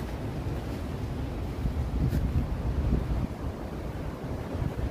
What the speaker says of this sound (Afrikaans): die weer, die wind, ek sal julle nou wys